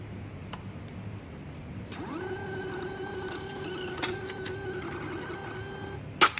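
A Panda PRJ-58D receipt printer runs a self test, its motor whirring steadily for several seconds close by, then ending with a sharp click.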